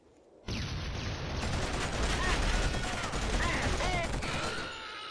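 Sudden heavy gunfire erupts in the KillZone 1 video game after a quiet moment, a loud sustained barrage of rapid shots and blasts that eases slightly at the end, with voices mixed in.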